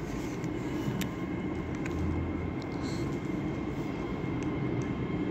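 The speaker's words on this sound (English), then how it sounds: "Express Class 802 running from Liverpool Lime Street to Newcastle." Class 802 express train running from Liverpool Lime Street to Newcastle at Manchester Victoria station, a steady low rumble with a constant broadband roar throughout, no speech.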